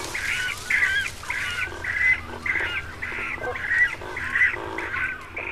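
A small cormorant breeding colony nesting in three or four lakeside trees gives a continuous chorus of harsh, rhythmic croaking calls, repeated roughly every half second, loud and close with no talking.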